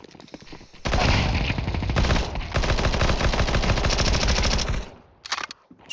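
Negev machine gun in Counter-Strike 2 during a tournament match, firing one long, loud, near sustained burst of rapid automatic shots with a short break, then a few scattered fainter sounds.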